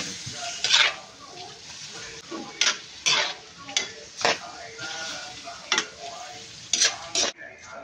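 Beef cubes with black pepper and salt are stirred in a pot for Bicol-style beef paksiw: close, repeated scraping strokes of a utensil against the pot over a steady low sizzle, with a few distinct clinks.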